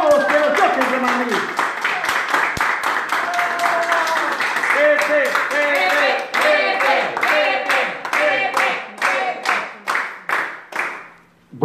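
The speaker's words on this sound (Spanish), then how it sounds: "invitámosle un caluroso y fuerte aplauso a don Pepe Cómodos de los Choques de Madrid" Audience clapping for an honoree at a tribute event in Madrid, a dense burst of handclaps that thins into scattered claps and trails off, with voices and harmonic tones mixed in through much of it.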